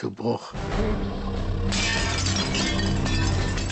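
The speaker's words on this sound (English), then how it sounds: "Suddenly there was a clattering, and the window pane shattered." A sudden crash of breaking glass followed by a dense, sustained clattering roll of noise.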